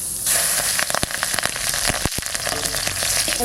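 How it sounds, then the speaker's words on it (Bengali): Nigella seeds and green chilli hit hot oil and sizzle loudly and continuously, crackling close by with sharp pops scattered through the hiss. "তেল দিচ্ছি আবার কালো জিরে ওটা কাঁচা লঙ্কা ফোড়নে দিচ্ছি"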